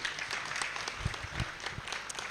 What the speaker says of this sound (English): another round of applause for our boss, please